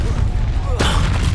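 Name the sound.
spell blast in Hogwarts Legacy video game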